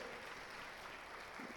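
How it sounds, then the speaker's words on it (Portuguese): A church congregation applauds during an evening worship service, a steady wash of clapping filling the short stretch at an even level. "Vamos aplaudir o Senhor?"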